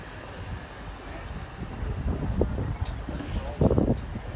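Wind buffets the microphone in low, rumbling gusts at an outdoor Easter fair in Prague, growing stronger toward the end, with some muffled speech-like sounds underneath.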